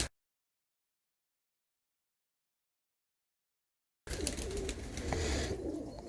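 Pigeons sitting wet after rain give soft cooing calls amid outdoor ambience, beginning abruptly after several seconds of silence and continuing moderately loud to the end.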